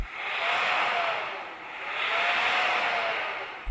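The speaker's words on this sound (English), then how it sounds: "rev up that horrible diesel" A diesel engine in a used Porsche Cayenne SUV revs up twice in broad, rising and falling swells, loud and steady with no talking over it.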